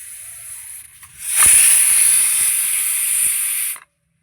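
A pressure cooker, after several whistles, lets out a loud, steady hiss of steam that rises sharply, holds for about two and a half seconds and then cuts off abruptly.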